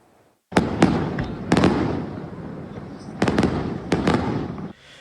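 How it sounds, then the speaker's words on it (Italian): Fireworks closing the Sferracavallo festival in Palermo: after a brief silence, loud sharp bangs and crackling bursts in several clusters, with a continuous fizzing rumble between them. "I fuochi d'artificio hanno calato il sipario sulla festa di Sferracavallo a Palermo"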